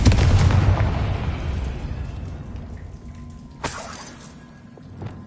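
A Confringo fire-blast spell explosion in Hogwarts Legacy, a loud roaring burst right at the start that decays into a crackling rumble, with a smaller sharp pop partway through and a faint one near the end.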